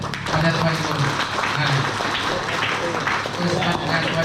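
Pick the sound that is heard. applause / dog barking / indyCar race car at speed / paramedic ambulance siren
applause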